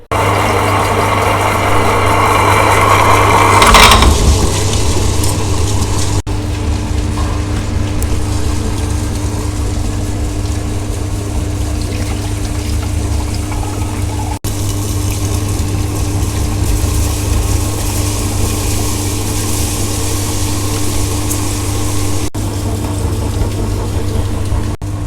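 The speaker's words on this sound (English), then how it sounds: "Next we will grind the millet and the rice together." Wet grinder grinding soaked millet and rice into batter for South Indian idli and dosa, a steady motor hum with a continuous churning drone that stays even throughout after a brief clatter near the start.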